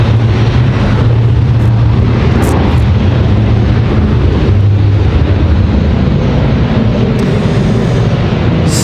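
An Embraer E175 jet airliner departs Raleigh-Durham International Airport, a loud, continuous roar of jet engines rumbling heavily throughout, with faint wind noise.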